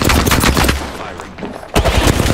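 Game gunfire in an Apex Legends battle royale match: a loud, rapid automatic burst, a short lull, then another burst of fast shots close by.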